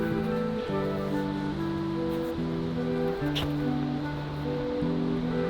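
Steady rushing surf of ocean waves on the West Coast, continuous and moderately loud, with a low tonal drone layered underneath.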